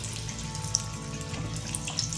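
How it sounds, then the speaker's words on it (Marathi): Potato vadas (batata vada) fry in hot oil, a soft steady bubbling sizzle with a few faint pops, fairly quiet and close with no talking. "झाराने एक दोन वेळेस त्याला असं पलटवून घ्यायचं, म्हणजे दोघी साईडने छान तळला जाईल।"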